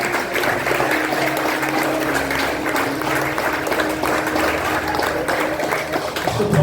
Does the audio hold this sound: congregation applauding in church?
yes